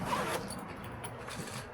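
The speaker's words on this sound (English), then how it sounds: "All right, zip this back up." A zipper is drawn shut on a Veto Pro Pac HVAC tool bag, a single close, loud rasping pull lasting under two seconds.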